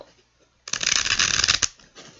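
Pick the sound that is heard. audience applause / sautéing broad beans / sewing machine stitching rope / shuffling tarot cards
shuffling tarot cards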